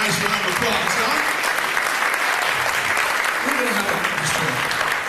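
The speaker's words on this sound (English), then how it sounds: "Let's give these people a nice round of applause, huh?" Audience applause at a 1990s magic show, a dense, steady wash of clapping that fills the whole stretch, with a voice talking over it.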